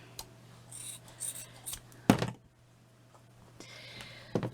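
A single short snip of scissors trimming a bit of material while making a chic wall plaque craft, a sharp cut standing out above light rustling and handling noises.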